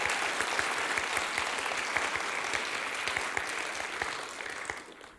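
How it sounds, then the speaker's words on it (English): Audience applause at a live panel event, dense clapping from a crowd that stays steady and fairly loud throughout, then fades slightly at the end. "Please give him a round of applause"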